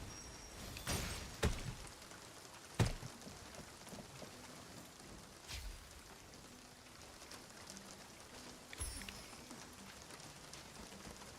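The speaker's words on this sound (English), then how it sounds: "Flips and flops of raindrops are so nice to fall asleep to." Soft rain in the video game Stellar Flurry: a faint, steady patter of raindrops with a few sharper, louder drops standing out now and then, and no voices.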